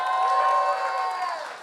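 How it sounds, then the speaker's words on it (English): Audience in a London live theatre venue cheering and applauding, a dense wash of voices and whoops with clapping underneath, sustained and then fading off. "Round of applause for them, please."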